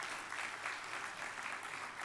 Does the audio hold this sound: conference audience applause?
yes